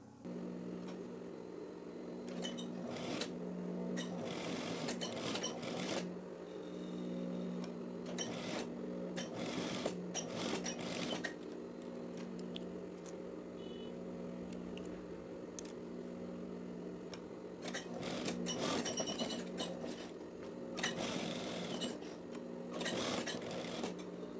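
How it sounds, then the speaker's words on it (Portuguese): An overlock sewing machine stitches fabric for a teddy jacket, a steady mechanical whirr in repeated runs broken by short pauses and clicks, close and moderately loud with no talking. "eu também já fiz um acabamento aqui, ó, na máquina overlock"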